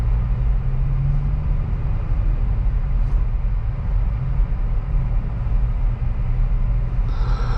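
A 2023 Acura Integra with a manual gearbox pulling away in first gear, a steady low engine and road rumble heard from inside the cabin, with no talking.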